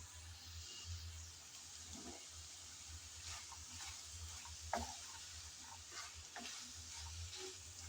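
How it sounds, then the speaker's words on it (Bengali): Potatoes and green peas being stirred and sautéed in a pan for ghugni, a faint soft sizzle with occasional scraping stirs and light clinks over a low steady hum. "আমিও তাই নেড়েচেড়ে ভালোভাবে কষিয়ে নিচ্ছি।"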